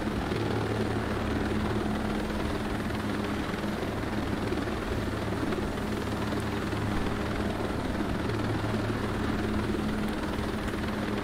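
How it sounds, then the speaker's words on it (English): A helicopter in the Rainbow Six video game drones steadily throughout, a loud continuous rotor and engine hum with no pauses. "Fortunately, this helicopter comes equipped with weapons that will aid us in doing precisely that."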